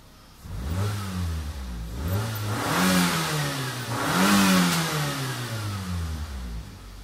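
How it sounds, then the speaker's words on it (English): A 1997 Nissan Sentra engine revs up repeatedly from idle, its pitch climbing and falling in several swelling pulls, steady and close with no talking. "gonna show you how it works when I'm revving the engine"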